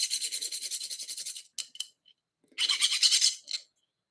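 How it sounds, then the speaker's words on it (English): A metal file rasps across a small part of a 1964 Schwinn Varsity bicycle, such as a pinch bolt, in quick regular back-and-forth strokes, close and fairly loud, then pauses and resumes with a second burst of strokes. "you could file up this little sucker too if you wanted to"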